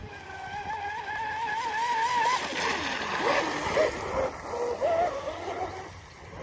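Radio-controlled model boat with a flying hull speeding across water toward the listener, a high whining motor that rises and wavers in pitch over steady splashing spray, fairly loud throughout.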